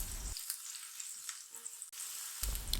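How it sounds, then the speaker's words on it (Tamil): Fennel seeds and chopped garlic fry in hot oil, a steady close sizzle with soft crackles that briefly drops away before returning. "இந்த சோம்பும் பூண்டும் நல்லா எண்ணெயில் கொஞ்சம் வதங்கினதுக்கப்புறமா"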